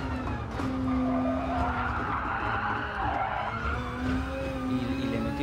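Race cars in the Gran Turismo video game, a GR Supra among them, squeal their tyres in a long, loud skid over constant engine roar, with no talk.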